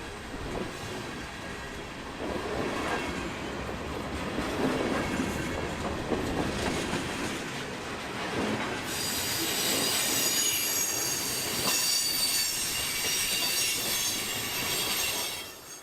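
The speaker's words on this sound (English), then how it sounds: "I think I hear the DPU approaching." Freight train with a two-unit distributed power locomotive set approaching a road crossing near Cincinnati, heard as a steady rumble of rolling cars with loud wheel squeal and some clickety-clack building over the whole span, no talking.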